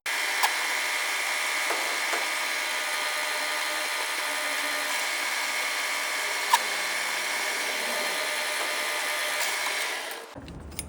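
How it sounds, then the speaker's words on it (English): A steady high-pitched power drill whine, drilling holes in aluminium mounting brackets, runs almost continuously for about ten seconds, close up, then cuts off abruptly near the end. "Just going to drill some holes in the brackets, the mounting brackets."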